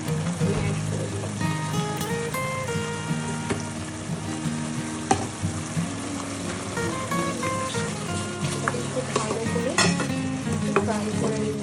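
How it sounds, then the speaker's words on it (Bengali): Ground onion paste fries in a pan for chicken rezala, with a continuous close sizzle and crackle and occasional stirring scrapes, over faint background sounds. "ফ্রাই করে নিতে হবে।"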